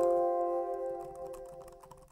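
Soft, well-dampened key presses on a laptop keyboard (Huawei MateBook X or Microsoft Surface Laptop), faint quick clicks after a fading tone, quiet and close.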